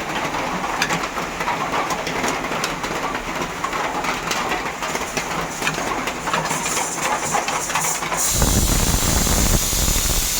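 A pressure cooker cooking rice and lentils on a gas stove bursts into a loud, steady hiss of escaping steam near the end, after a stretch of pigeons cooing and faint household background noise.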